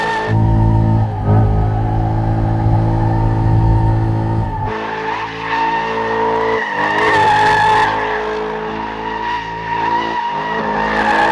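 A 2020 Chevrolet C8 Corvette spins donuts, its engine roaring loudly and steadily under long, continuous tire squeal and skidding that shifts in pitch as the car rotates, heard close by without speech.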